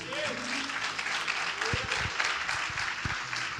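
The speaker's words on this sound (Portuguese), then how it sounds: "Pode aplaudir ao Senhor aí?" A crowd claps steadily during a church service, dense applause filling the room, with a voice speaking over it in Portuguese.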